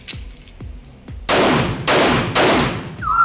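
Handgun shots fired at a target about 20 yards away during a timed ten-round drill, heard as a quick string of sharp cracks: a few lighter pops first, then louder, booming reports roughly half a second apart.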